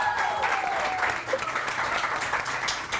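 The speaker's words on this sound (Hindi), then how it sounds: "तालियां" A TV morning show studio audience claps steadily and loudly for a few seconds, dense applause filling the space.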